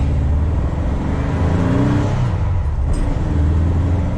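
A 1966 VW Split Bus with a 1968cc air-cooled engine drives along, its loud, steady engine drone and road noise heard from inside with no gaps.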